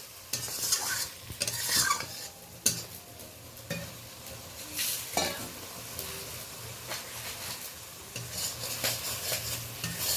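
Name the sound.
stirring ground spice paste with a spatula over low heat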